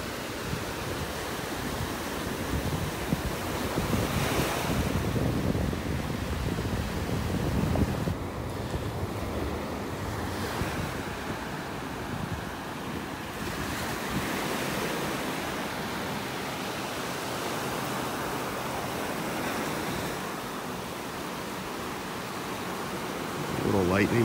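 Waves breaking over a sandbar off a calm beach in North Naples, Florida, a continuous broad wash of surf mixed with wind buffeting the microphone, steady and fairly loud throughout.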